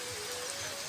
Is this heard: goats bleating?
no